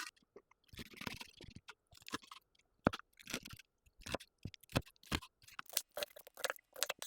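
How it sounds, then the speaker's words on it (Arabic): A knife cuts through crunchy fried chicken, producing close, sharp crackling crunches in irregular bursts separated by short quiet gaps. "بصوا بقى قرمشة الفراخ عاملة معانا ازاي"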